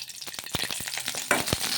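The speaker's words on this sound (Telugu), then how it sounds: "ఇలా కొంచెం నూనె వేసుకొని ఈ పచ్చిమిర్చిని మగ్గించుకుందాము." Green chillies cooking in a little oil in a kadai, a continuous crackling sizzle close by with sharp spatters and stirring scrapes, no voices.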